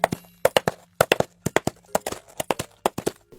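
Coconut shell halves knocked together as film foley to imitate a horse's hooves, making a brisk, dry clip-clop in a steady trotting rhythm, close and alone.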